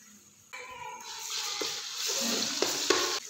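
Garlic paste and onion hit hot oil in a wok with a sudden loud sizzle after a brief quiet, then a steady close hiss broken by a few stirring scrapes.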